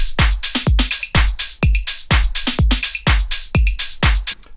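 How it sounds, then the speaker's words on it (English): A basic programmed house drum loop for piano house, built in Ableton, thumps along with punchy kicks and crisp hats and claps in a steady, driving four-on-the-floor rhythm. It plays loud and alone. "Okay guys, so I've already got down some drums."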